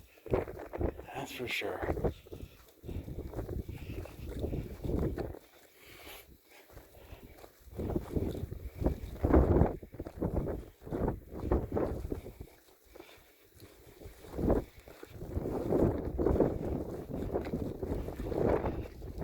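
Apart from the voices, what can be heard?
wind on top of a mesa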